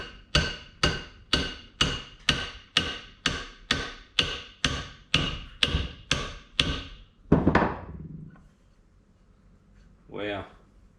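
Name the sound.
tapping with a copper hammer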